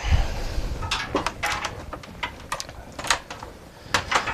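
Clacky typing on a typewriter-style computer keyboard, irregular bursts of sharp key presses close by, with short pauses between quick runs of strokes.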